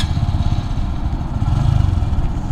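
A Honda Grom motorcycle engine runs at a steady, loud, close-up putter with a dense low throb, alone and without voices.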